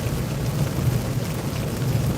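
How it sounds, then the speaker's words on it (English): Heavy storm rain pours steadily as a dense, even roar with a low rumbling undertone, loud and unbroken throughout, no talk. "It's pretty heavy rain."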